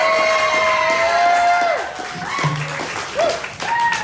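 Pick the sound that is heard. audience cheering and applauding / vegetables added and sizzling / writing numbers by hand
audience cheering and applauding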